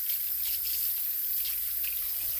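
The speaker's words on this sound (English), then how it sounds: "you wash it, you know, rinse it until the water becomes clear" Tap water runs steadily into a kitchen sink while raw beef back ribs are rinsed clean, a continuous close splashing hiss with no voices.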